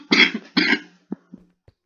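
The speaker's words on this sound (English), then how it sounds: "wasn't coughing at all until I started recording again." Two sharp coughs close to the mic, followed by a few small throat sounds and a soft catch of breath.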